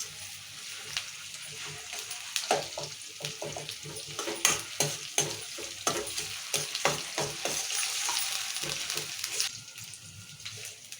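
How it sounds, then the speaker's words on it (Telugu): Ginger garlic paste fries in oil with a continuous sizzle under frequent clattering spatula strokes against the pan, close and fairly busy, growing denser toward the end. "అల్లం వెల్లిగడ్డ వేసినా కదా, పచ్చివాసన పోయిన దగ్గర నూనె ఇట్లా ఉడిపించుకుందాము"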